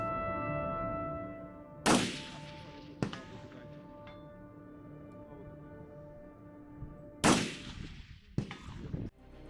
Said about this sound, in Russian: По команде инструктора ОМОНовцы начинают стрелять.